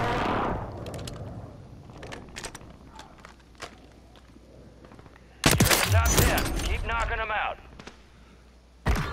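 Gunfire in the Call of Duty MWIII Resurgence video game: scattered single shots and footsteps, then a loud close burst of rapid fire with rattling echoes, and another sharp shot at the end, with a voice speaking briefly.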